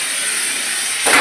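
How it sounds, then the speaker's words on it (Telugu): Tile cutting machine slicing through bathroom wall cladding tiles: a steady, loud high-pitched whine throughout that grows harsher and louder near the end as the blade bites into the tile. "ఇది కటింగ్ మిషన్ అంటారు. చాలా సింపుల్గా కట్ అవుతుంది ఫ్రెండ్స్ టైల్స్."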